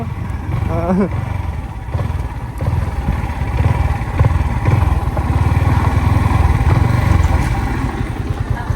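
A motorcycle engine runs close by with a steady throbbing rumble, revving slightly, while a voice speaks briefly near the start.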